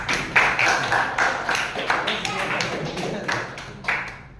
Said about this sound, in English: Round of applause for your friends.